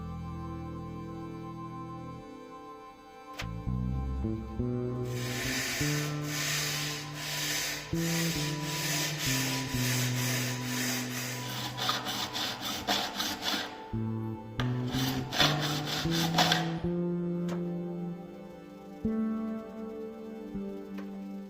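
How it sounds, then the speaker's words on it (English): Sandpaper rubs across a wooden bass guitar body in steady back-and-forth strokes, a loud scratchy rasp in two long bursts, with music playing throughout. "I sanded the whole base"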